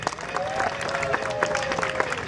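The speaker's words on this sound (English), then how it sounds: "Give yourselves a round of applause." An outdoor show audience in rainy weather applauds steadily, a dense patter of many hands clapping at once, with some crowd voices mixed in throughout.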